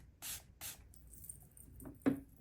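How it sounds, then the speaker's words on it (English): Makeup setting spray misted from a pump bottle onto a damp makeup sponge, heard as a few short, close hissing bursts with quiet gaps between them. "I'm going to take a makeup setting spray."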